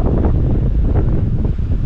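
Gusty summer wind in South Florida buffets an outdoor microphone, a loud, rough, rumbling rush that holds steady for a couple of seconds with no voices.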